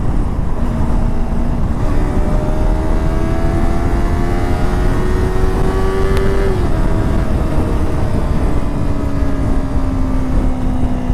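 A Yamaha R3 twin-cylinder motorcycle engine revs and pulls steadily while riding on the road, its tone climbing through gears in a loud, continuous drone with heavy wind rush over the microphone.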